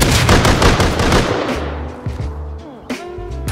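Rapid gunfire in the video game Rust, with a loud burst of quick repeated shots at the start that thins into scattered, sharper reports and echoing tails, with no voices heard.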